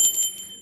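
A small hand bell rings in a quick couple of bright, close strikes, then its clear metallic tone fades away on its own.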